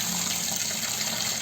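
Tap water runs steadily into a sink while chicken meat is washed for a chicken biryani with potatoes, a continuous close hiss with no talk.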